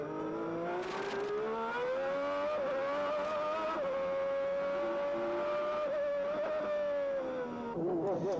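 Formula 1 cars from the 1991 season scream past, their high-pitched engine whine sustained and rising in pitch, with brief gear-change dips and a fresh engine note arriving at the end.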